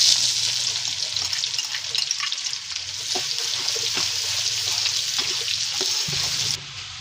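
Chopped onions fry in hot oil in a pan, giving a continuous bright sizzle with occasional stirring clicks and scrapes. The sizzle drops slightly near the end, and no one speaks.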